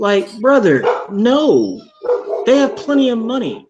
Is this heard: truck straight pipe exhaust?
no